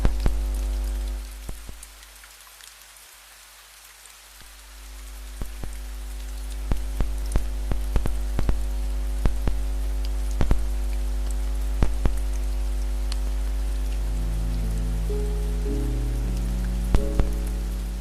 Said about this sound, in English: just the sound of rain and the quiet crackle of the line between them